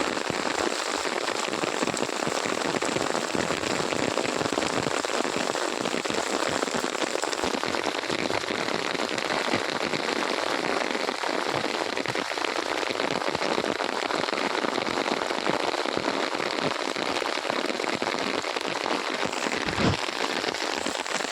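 Steady monsoon rain falls on the open countryside of Purulia district, a dense continuous hiss of drops on surfaces with a few sharper patters, close and even throughout with no voices.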